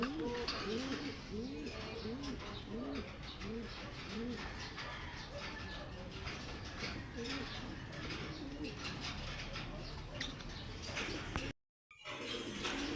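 Pet pigeons or doves cooing repeatedly at a breeders' show display, with a steady rhythm of soft, rolling coos close by over a busy outdoor background and occasional chirps.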